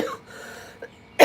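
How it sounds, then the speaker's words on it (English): A single cough bursts out loud and close at the end of a short quiet stretch, with a faint throat sound just before it. "Don't mean to cough on camera."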